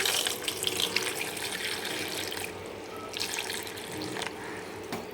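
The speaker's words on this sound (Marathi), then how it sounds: "बटाट्यामध्ये पण आपल्याला पाणी टाकायचं आहे" Water pours from a tap into a pot of potatoes, a close gushing splash that swells and eases in bursts with a brief pause midway, quiet and with no voices.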